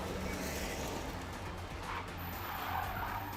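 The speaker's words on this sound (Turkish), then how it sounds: "Evet araba kayıyor." Loud continuous engine roar with a drawn-out tire squeal as a race car slides, steady throughout with no voices.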